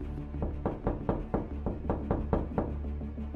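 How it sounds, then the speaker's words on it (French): A rapid series of heavy knocks pounds on a front door, about a dozen firm thuds in quick irregular rhythm, close and loud. "la porte d'entrée, elle entend frapper très très fort"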